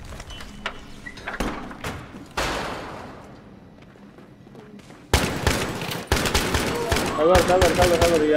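Battlefield 3 gameplay carries bursts of rapid gunfire and loud impacts, with quieter stretches in between and a person talking now and then over the action.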